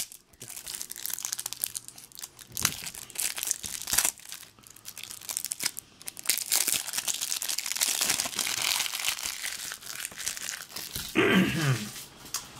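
Plastic wrapping from a Carnival of Monsters board game box crinkles and crackles continuously up close, with rustling bursts rising and falling and a louder crunch near the end.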